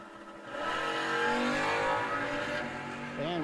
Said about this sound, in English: so you got the foot-braking Zane up against Ritchie in the dragster.